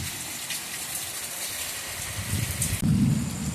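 An evening thunderstorm with heavy rain and gusting wind, a continuous rushing downpour with a deeper rumble of thunder swelling near the end, loud and close with no voices.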